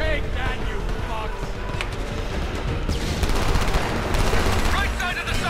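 Rapid machine-gun bursts and rattling gunfire fill a Homefront firefight, loud and continuous with dense repeated shots, while voices speak over the combat.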